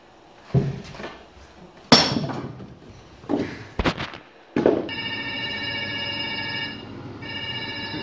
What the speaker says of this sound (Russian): Это у Андрюхи мобильный так звучит.